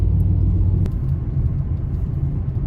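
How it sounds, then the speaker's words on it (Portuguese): Street traffic at six in the morning, cars passing on the road with a continuous low engine rumble and a brief sharp transient midway, heard close and fairly loud without speech. "6 horas da manhã, bastante carro na rua."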